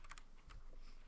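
Several quick clicks on a computer keyboard, a short burst of typing followed by a few isolated taps, close and fairly quiet.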